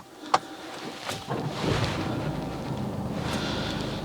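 A Mercedes-Benz A200d sedan's 2.0-litre diesel engine starts in one go, with a sharp click, then a brief crank that settles into a steady, close, rumbling idle that fills the rest of the clip.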